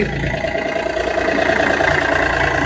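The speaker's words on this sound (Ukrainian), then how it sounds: "Це своїм ходом виїжджає Янмар ус 330" A Yanmar US 330 compact tractor with a 33-horsepower engine pulls away under its own power. Its steady, droning idle-like rumble stays loud and close throughout.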